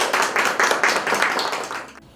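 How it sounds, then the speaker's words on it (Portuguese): A studio audience on a Mother's Day talk show gives a short burst of rhythmic hand clapping, steady and fairly close, ending abruptly after about two seconds. "aplausos para todas as mamães."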